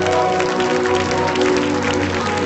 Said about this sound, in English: Put your Bible down and clap those hands to the Lord.